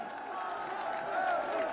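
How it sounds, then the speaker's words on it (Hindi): A large crowd cheers and claps to welcome Prime Minister Narendra Modi at the Noida International Airport site in Jewar. The sound is a steady, dense roar of massed voices and applause that swells slightly toward the end. "आप सब तालियों के प्रणाम उन तक पहुंचाएं और उनका"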